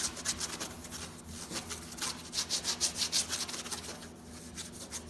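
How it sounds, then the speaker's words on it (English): Soft rhythmic rubbing of a tack cloth wiped back and forth over an engraved wooden surface, close and quiet, strokes repeating in short bursts. "I'm just gonna give it a little bit of a wipe with tack cloth"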